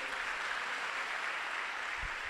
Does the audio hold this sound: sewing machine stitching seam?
no